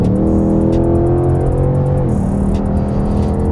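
A Ford Mustang Mach 1 muscle car engine idles and revs in a deep, steady rumble, loud and close, with the pitch shifting partway through.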